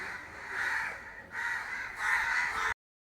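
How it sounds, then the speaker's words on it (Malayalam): Crows caw loudly in a village setting, three long harsh calls in a row, fairly close, with no voices. "കാക്കച്ചാളും നല്ല കരയുണ്ട്"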